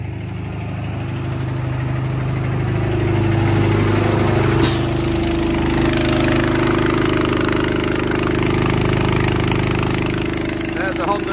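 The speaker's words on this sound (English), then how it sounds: "There's the Honda engine" A Honda engine on a fertilizer sprayer runs at a steady idle, a constant mid-low drone holding level throughout with one brief sharp click partway.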